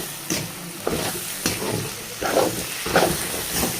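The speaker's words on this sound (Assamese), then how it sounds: "এতিয়া খুব ধুনীয়াকৈ এইখিনি ভাজি ল'ম।" Vegetables frying with turmeric and salt in a pan, a steady sizzle broken by several louder scraping stirs at irregular moments, close and fairly loud with no talking.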